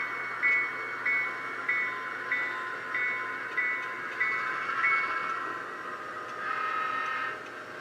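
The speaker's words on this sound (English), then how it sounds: "It's a train." A passing train sounds repeated short, evenly spaced tonal blasts over a low rumble of rolling cars, moderately distant and steady.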